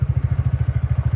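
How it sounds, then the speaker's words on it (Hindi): Scooter engine just kick-started, idling with a fast, even low putter of pulses, close and loud, no talk. "तो हो चुकी है हमारी स्कूटी स्टार्ट"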